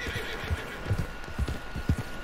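Horse hooves clop in a steady walking rhythm with a whinny among them in Red Dead Redemption 2, sounding slightly synthetic over a low background hum.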